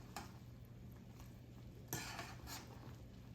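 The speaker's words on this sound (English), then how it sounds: "I'm gonna stir them around a little bit." Squirrel dumplings are stirred in a pot, with quiet clinks and scrapes of a utensil against the pot: a couple of sharper knocks stand out over a soft low hum, faint and without talk.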